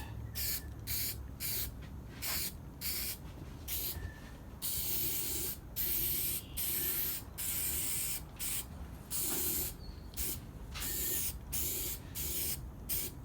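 Aerosol spray paint hisses in repeated short bursts with brief pauses between passes, laying light even coats of green over a primed antique Black and Decker valve grinder, close and steady.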